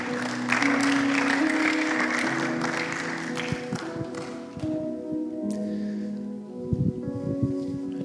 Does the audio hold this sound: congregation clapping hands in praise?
yes